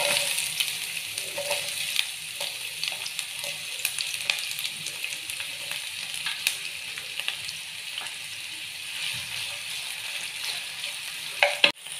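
Onions sautéing in hot oil in a pan, a steady soft sizzle with light stirring scrapes throughout, close and continuous, with a louder clatter near the end.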